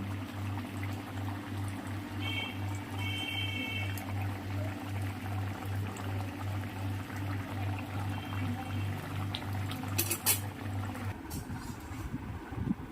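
Fish curry with pumpkin-leaf stems simmering in a pot, a steady low bubbling and rumbling with a faint pulsing hum, a few light clinks near the end as the pot is handled.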